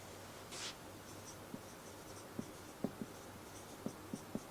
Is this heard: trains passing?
no